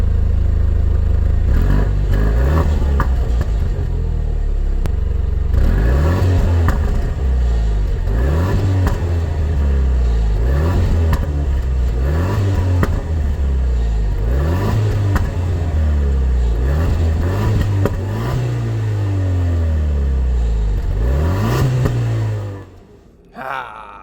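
A Jaguar F-Type, a wrecked car being rebuilt, revs hard in sports mode. The engine climbs and drops in about eight repeated surges, loud and close, before cutting off abruptly.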